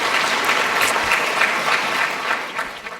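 Audience applause at a city State of the City address in Garden Grove, a brief burst of dense clapping that holds steady and begins to thin toward the end.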